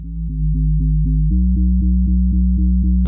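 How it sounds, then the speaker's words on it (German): A deep, booming synthesizer sub-bass holds steady notes with a subtle pulsing rhythm, loud and alone without any voices. "habe dann hier nochmal richtig Subbass dazu gegeben"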